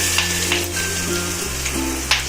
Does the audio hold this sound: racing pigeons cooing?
no